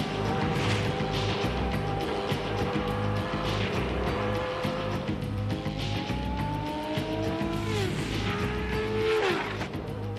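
A Formula One car engine howls at high revs through a fast corner, pitch climbing and dropping steadily with gear changes over a constant loud roar.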